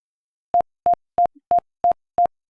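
A computer beep alert from a Python program, a series of seven short, evenly spaced electronic tones, loud and clean against silence.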